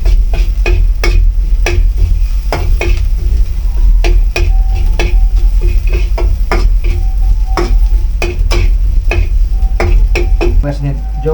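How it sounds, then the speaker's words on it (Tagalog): Pork sautéing with salt in a home kitchen pan: a loud steady sizzle broken by regular clinks and scrapes of a metal spatula stirring against the pan, heard close and alone. "Igisa natin sa asin"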